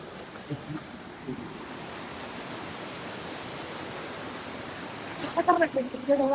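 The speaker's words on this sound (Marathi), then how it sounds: "हे बघा तो वॉटरफॉल" A monsoon waterfall roars as a steady, broadband rush throughout, with a voice speaking briefly over it near the end.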